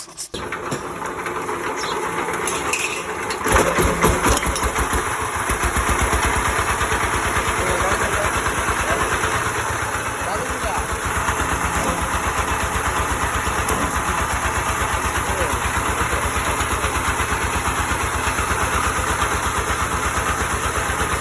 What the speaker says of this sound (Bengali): ইঞ্জিনের সাউন্ডটা মোটামুটি ভালো আছে এবং একদমই রানিং আছে